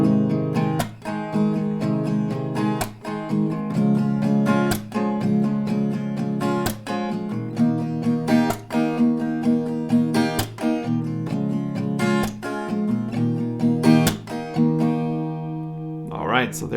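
An acoustic guitar strums a steady chord progression in a lesson setting, with even rhythmic strokes and ringing chords played close and clear for most of the passage, ending with a brief changed chord.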